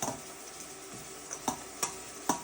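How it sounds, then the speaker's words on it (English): Salad with blue cheese and dressing being tossed and mixed, giving soft steady rustling with a few sharp clicks of utensils near the end, close by and quiet. "then we're going to mix that whole thing up"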